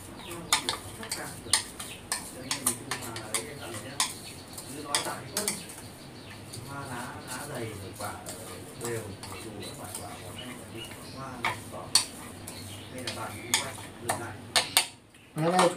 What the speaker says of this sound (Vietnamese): Chúng ta khuấy đều, bát nước trộn vào lên.